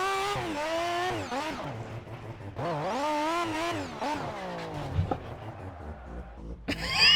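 A rotary-engine car in the racing game Project Cars revs up and down through the gears with a buzzing, nasal whine, the pitch rising and falling in repeated sweeps at a low level, with talk over it.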